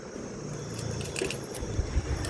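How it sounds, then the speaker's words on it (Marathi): Car keys jangling close by, a few light metallic clinks and rattles over a low background hum. "गाडीची चावी"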